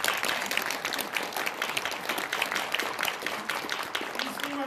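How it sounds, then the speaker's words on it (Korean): An audience at a speech on founding president Syngman Rhee claps in a thick, continuous burst of many hands, loud and even from start to finish. "박수 한번"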